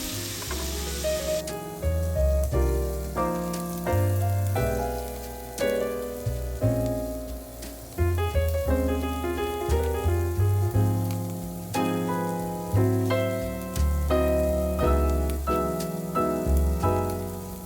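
Shrimp fry in bacon grease in a pot with a constant crackling sizzle, heard under prominent background music that plays throughout.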